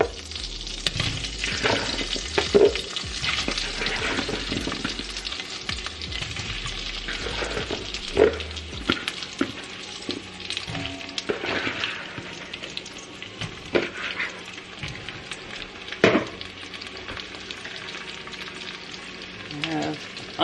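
Potatoes frying in a Dutch oven pan alongside Cornish hen preparations, a continuous soft sizzle with occasional stirring clatter, heard close and fairly quiet with no talking.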